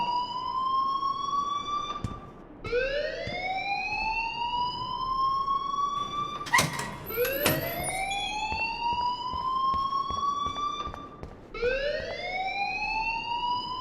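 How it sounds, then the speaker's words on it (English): A school alarm in the video game Life is Strange sounds as a repeated rising electronic wail, several cycles in a row, loud and steady over quiet background noise. "please turn off that alarm since that's your job."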